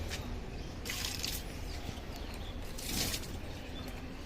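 Water poured over the bases of potted plants while watering them, a steady wet splashing and trickling with brief brighter bursts, close and continuous, no talking.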